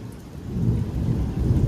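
On a Delhi rooftop, low rolling thunder rumbles under a steady hiss of rain, close and continuous, with no talking.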